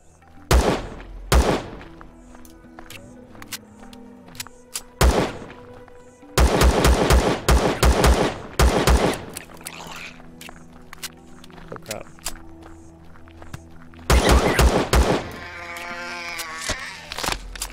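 Loud bursts of rapid automatic gunfire in the survival game Empyrion, coming in several separate volleys with quiet stretches between them and animal bleats in the gaps.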